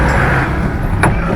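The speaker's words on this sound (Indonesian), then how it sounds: "Awas mobil." A car passes on a road outside a resort in Ciater, Subang, West Java, a loud, close engine and tyre rumble that swells steadily across the short stretch, with no voices heard.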